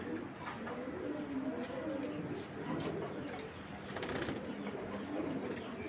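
An imported racing pigeon cooing in a loft, soft low repeated coos with faint wing rustles, mixed with other birds and someone talking nearby.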